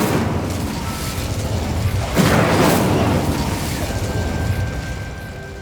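An Incendio fire spell cast in Hogwarts Legacy lands as a loud whooshing burst of flame over low rumbling game ambience, flaring into a bright crackling blast midway and then easing off, followed by a thin steady magical tone.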